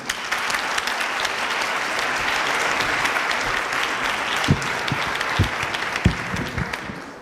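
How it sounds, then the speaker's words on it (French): An indoor audience applauds a speaker at a French talk on intellectual giftedness, steady dense clapping sustained throughout with a few louder claps standing out near the end. "Veuillez applaudir Florent Nunes, s'il vous plaît."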